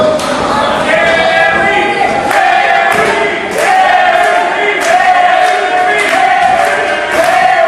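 A wrestling crowd at a BPW North American Title match roars for Terry Adonis, a loud, continuous wall of cheering and shouting with rhythmic chant-like surges and occasional sharp bursts.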